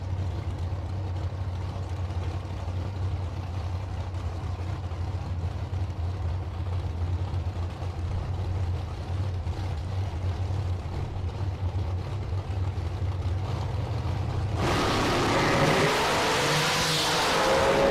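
A supercharged A&E dragster roars steadily at a drag strip, a loud sustained engine drone that surges into a harsher, brighter blast near the end, with no voices over it.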